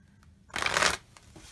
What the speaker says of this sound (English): So give this a couple shuffles here.